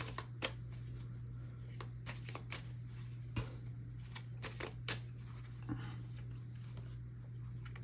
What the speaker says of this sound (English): Let's get you a couple tarot cards